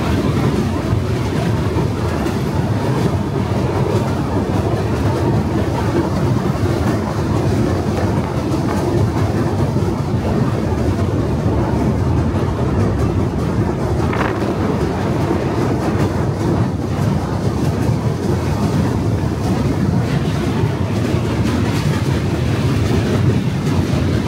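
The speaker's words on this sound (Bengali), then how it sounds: "আমাদের ট্রেন এই মুহূর্তে এসে পৌঁছালো তার যাত্রাপথের 14তম স্টেশন মালদা টাউনে" An Agartala to Kolkata Garib Rath Express train runs steadily near Malda Town, a loud continuous rumble with rhythmic clickety-clack of wheels on rail joints, heard from inside the carriage throughout.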